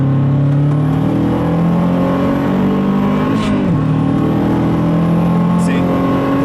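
A tuned Mazdaspeed 3 pulls hard through third gear with a loud, steady engine drone from inside the cabin, the pitch climbing, then briefly dipping around a shift before rising again.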